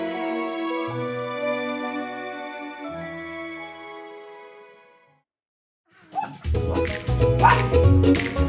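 Dogs at an animal rescue sanctuary in the Algarve, Portugal, break into loud, close barking and yipping near the end, after a long stretch of tonal music and a brief silence.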